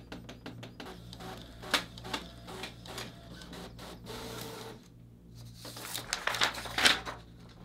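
A Brother MFC-J995DW inkjet all-in-one printer runs a double-sided print job, giving repeated mechanical clicks, whirs and paper-feed pulls as the sheet is drawn back in. The sounds come close and alone, in bursts of varied loudness.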